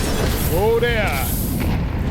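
A grenade explodes in Counter-Strike during a professional Anubis match, a short booming blast as an excited voice rises in an exclamation over it.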